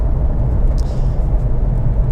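A 3.7-litre V6 Mustang fitted with a Borla S-Type exhaust idles with a deep, steady low rumble and gurgle, close and continuous, with no voices.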